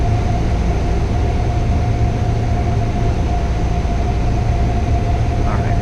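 A Grumman light aircraft engine drones loudly and steadily from inside the cabin during a crosswind landing approach, a continuous low rumble with a constant hum and no breaks.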